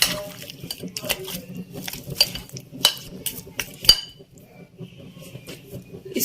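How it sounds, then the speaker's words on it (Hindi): Utensil clinks and soft stirring of yogurt and spices being mixed into chicken for a ginger chicken marinade, close and light, with scattered sharper taps against a bowl over low background noise. "इन सब चीज़ों को हम अच्छे से चिकन पे लगा देंगे।"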